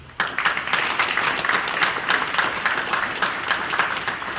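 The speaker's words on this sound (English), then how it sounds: "let's give an applause to Chief John Stewart" An audience at a Hartford community gathering applauds for a police chief, a steady wash of clapping that starts abruptly and holds at even strength to the end.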